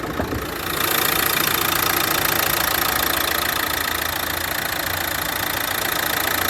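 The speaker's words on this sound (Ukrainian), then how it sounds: "Двигун працює ідеально, не димить" A Renault Megane 3 engine starts up and then idles steadily, a loud, even rumble with a fine mechanical clatter that continues without change.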